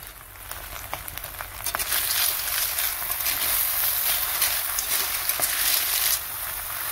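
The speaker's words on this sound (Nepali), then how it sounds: "एकदम मज्जाले भुट्ने।" Ghunghi snails fry in oil while their released water cooks off, producing a dense, steady hiss with scattered crackles that swells slightly and holds before easing near the end.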